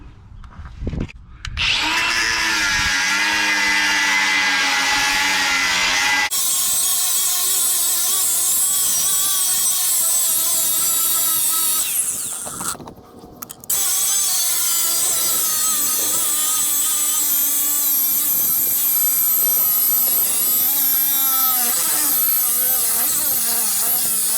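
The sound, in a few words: cutting off a Volvo air ride shock mount shoulder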